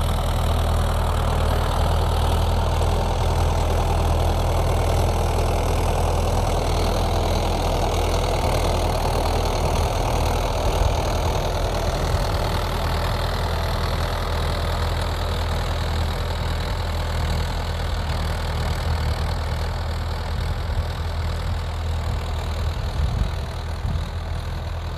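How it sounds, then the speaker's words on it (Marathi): A farm tractor pulling a rotavator through a field drones on continuously, a loud low engine rumble with a steady rough churn that holds for the full length, no talking. "आपलं चालू आहे रोटावेटर. हे बघा ट्रॅक्टर अशा प्रकारे लावला आहे"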